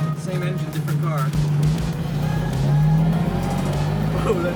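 BMW E30 carrying a swapped-in S50 engine, driven from inside the cabin, gives a steady loud engine drone with a rising rev partway through, with people talking over it.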